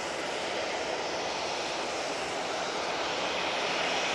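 A Jet2 airliner in plain livery departs Manchester Airport bound for Kalamata, its engines producing a steady, loud, broadband roar that holds constant throughout with no talking.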